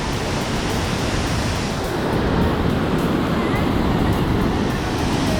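River water rushing out beneath the Natural Bridge between Canmore and Golden, a steady, loud, broadband roar of flowing water, continuous throughout with no pauses, heard close up.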